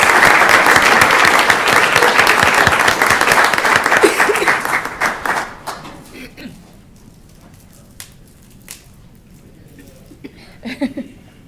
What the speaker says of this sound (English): We'll go ahead and provide applause.